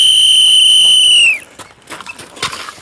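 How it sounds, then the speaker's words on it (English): A loud, steady whistle blast lasting about a second and a half signals the start of a pistol drill at an outdoor tactical shooting range in Dover, Tennessee, then gives way to faint scattered noise. "On the whistle."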